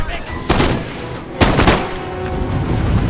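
Musket volleys fire in Napoleon: Total War at the Battle of Ligny, with two sharp, loud crackling bursts about a second apart over a dense battlefield din.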